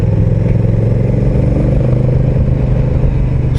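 A Honda Rebel CMX 1100 DCT cruiser in sport mode rumbles loudly at close range, a steady low mid-pitched engine drone with slight clatter and no voices.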